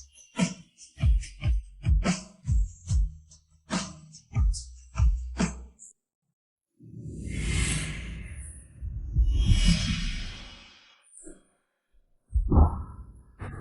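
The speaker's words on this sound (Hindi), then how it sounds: "तुम्हारी धड़कन बहुत तेज है।" A dramatic heartbeat sound effect in a drama: a series of deep, muffled thumps pulsing in a steady rhythm, loud and alone, followed by a breathy, rushing swell.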